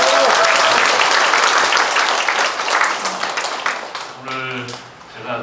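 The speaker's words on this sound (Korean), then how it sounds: "박수 한번 쳐주세요" Audience applause at a community town-hall meeting with citizens in Yeongi-myeon, Sejong, a dense burst of many hands clapping that fades toward the end, with a few voices emerging as it dies down.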